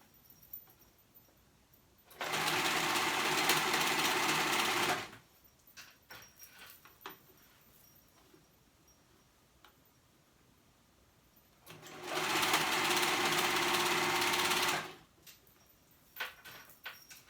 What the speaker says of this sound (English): Make sure you don't sew that gap closed.